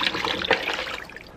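Water poured into a nearly empty sauce jar, a soft, close trickle and splash that tapers off gradually with no talking.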